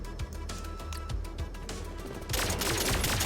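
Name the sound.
secondary fire weapon shooting in video game Turbo Overkill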